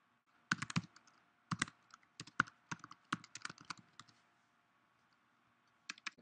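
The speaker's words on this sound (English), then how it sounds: "Could type in Twain, and let's say Huckleberry Finn." Computer keyboard typing search terms into a library portal, bursts of quick close key clicks with short pauses between words, then a brief final tap after a gap.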